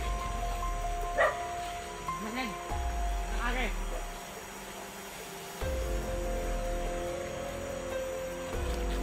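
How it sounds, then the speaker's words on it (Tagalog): A few short dog barks and yips at a distance, scattered over steady outdoor background noise. "May aso."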